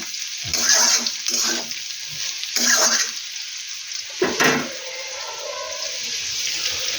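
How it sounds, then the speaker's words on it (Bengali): Potatoes fry in a pan in a home kitchen, giving a steady hiss of oil with a few louder bursts as they are stirred, close and fairly loud. "আলুটা ভাজছি"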